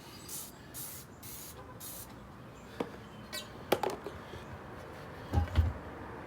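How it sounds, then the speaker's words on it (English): Several short bursts of a trigger spray bottle misting dish soap onto a UTV bead lock tire rim, followed by scattered light clicks and a couple of soft low thumps. "So this is what I'm using: Dawn dish soap. Spray the rim."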